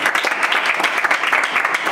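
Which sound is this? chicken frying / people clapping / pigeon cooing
people clapping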